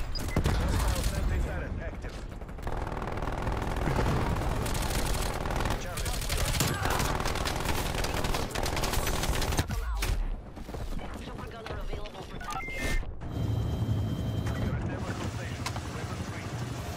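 Rapid SMG fire from a Bullfrog with an 85-round magazine in Call of Duty: Cold War, loud and sustained bursts across most of the stretch with a brief lull, mixed with game effects and some talk.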